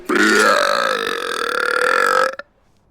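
A single long, loud burp with a rising then steady tone lasting about two seconds, ending abruptly, with a faint trailing sound and near silence afterward.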